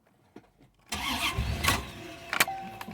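A 1996 Collector Edition C4 Corvette with 35K miles cranks and catches, a sudden rough engine start after a quiet moment, running unevenly with a few sharp bursts.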